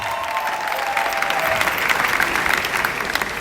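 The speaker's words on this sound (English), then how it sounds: "A round of applause for him," Students and guests at the University of Lagos give a professor sustained, loud applause, thick clapping mixed with crowd noise that holds steady throughout.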